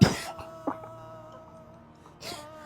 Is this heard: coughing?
yes